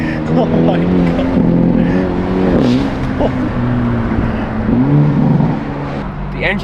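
A tuned Hyundai Elantra N driven hard, its engine droning loud and steady with rising and falling pitch as it accelerates, heard from inside the car under constant talking.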